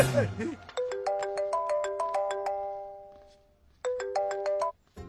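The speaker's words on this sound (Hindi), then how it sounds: "आपको किसी का फोन आ रहा है" A melodic phone ringtone plays a repeating chime pattern, pausing briefly before starting again, loud and close, with a voice speaking briefly at the start.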